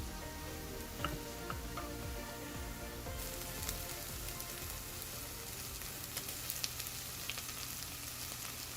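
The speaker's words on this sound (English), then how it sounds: "Mix it well in the onions and fry it along with them." Sliced onions frying in oil with garlic and ginger paste, a soft steady sizzle with scattered crackles and occasional stirring ticks, quiet and close, with no voices.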